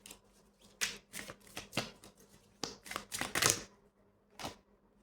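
Tarot cards shuffled close up in quiet bursts, crisp riffling flutters and slaps separated by short pauses.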